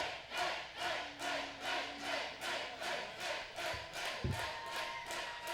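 A wrestling crowd at an independent UCW ZERO show, Summer Assault 2016, cheers in a rhythmic pulse of chanting and clapping, about two beats per second, steady and moderately distant throughout.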